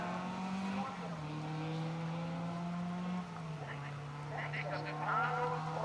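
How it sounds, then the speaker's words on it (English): A Talbot Sunbeam rally car drives a special stage at a historic rally festival in 2023. Its engine drones steadily with shifting pitch in the distance while a commentator talks over it. "Sean Clawley, John Shepherd, throwing that Talbot Sunbeam around"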